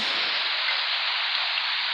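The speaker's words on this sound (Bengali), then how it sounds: "সকাল ধরে আজকে বৃষ্টি, অনেক বৃষ্টি" Heavy rain pours down steadily over a village, making a dense, even, unbroken hiss with no voices over it.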